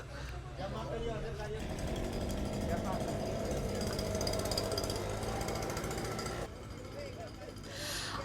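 Continuous loud mechanical drilling roar in Palmanova, Mallorca, with a steady rattling pulse, running almost without break, a brief lull near the end, with faint voices beneath.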